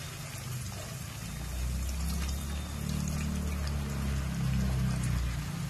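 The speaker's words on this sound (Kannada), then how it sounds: "ಇವಾಗ ನಾನು ಹುಣಸೆಣ್ಣ ರಸ ಸೇರಿಸ್ಕೊಳ್ತೀನಿ." Tamarind juice pours into an ivy gourd masala curry in a pan, a soft low gurgling stream that swells and continues for several seconds, faint and without talk.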